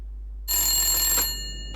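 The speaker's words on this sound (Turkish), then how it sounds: "Nereden çalıyor bu telefon ya?" An old-style telephone bell rings once in the video game The Long Dark, a bright metallic trill over a steady low hum, fading into quiet room tone.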